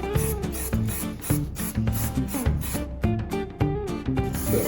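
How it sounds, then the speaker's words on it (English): Brush scrubbing the chain of a Honda Rebel motorcycle during pre-season cleaning, a steady run of rhythmic rasping strokes, close and fairly loud, with no talking. "I can brush all the sides."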